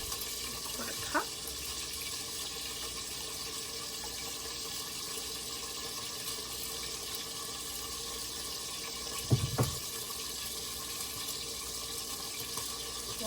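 Tap water runs steadily into a sink while a half-batch recipe is measured out, a broadband hiss holding from start to finish with a brief louder splash partway through.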